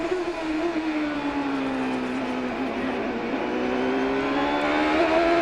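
A Champ Car racer screams through a hot qualifying lap at Mid-Ohio in 2003, its high-revving engine loud and continuous, pitch dipping under braking and climbing again through the gears, with no voices over it.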